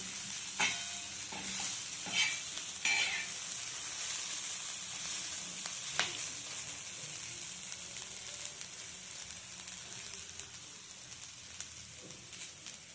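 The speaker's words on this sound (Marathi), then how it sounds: "थोडस तेल मीठ घालून भाजायचे परतून घ्यायचे चांगले" Corn kernels roast in a pan with oil and salt, a continuous close sizzling crackle with occasional scrapes and taps of stirring, fairly even in loudness throughout.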